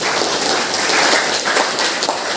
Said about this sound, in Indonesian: Kita beri tepuk tangan untuk ketiganya.